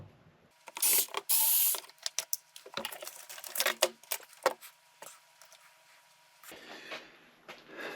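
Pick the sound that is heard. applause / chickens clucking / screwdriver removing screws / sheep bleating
screwdriver removing screws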